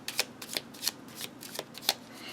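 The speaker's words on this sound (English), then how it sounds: "shuffle my cards to my question" A deck of cards shuffled for a Kipper-style card reading: quiet, crisp riffles and soft slaps in quick irregular bursts, close to the ear in a hushed room.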